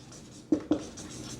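A pen writes on paper during a Vernier caliper lesson, two short sharp scratchy strokes close by, surrounded by quiet room tone.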